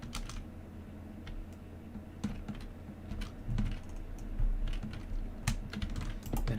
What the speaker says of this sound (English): It's just a normal keyboard